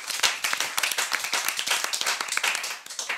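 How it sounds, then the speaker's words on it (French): A studio audience at a television game show claps in a dense, steady patter of many hands, moderately quiet and continuous with no talking. "on peut déjà les applaudir."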